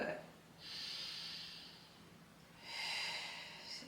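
Deep lateral rib cage breathing during a beginner Pilates exercise, heard as two long airy breaths, one around a second and a half and another shorter one later, close and soft with a faint low hum beneath.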